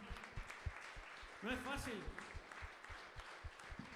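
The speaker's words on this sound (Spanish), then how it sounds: "Dale fuertes palmas al Señor" Church congregation in a Spanish-language service clapping in a steady rhythm, the claps fairly close and even-paced under a voice speaking throughout.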